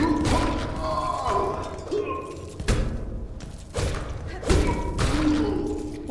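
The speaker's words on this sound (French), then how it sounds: "il s'est explosé avec sa propre bombe" Enemy in the Silksong video game blowing itself up with its own bomb: a run of heavy thuds and crash-like impacts amid busy game sounds, with a sharp burst near the middle and more hits after.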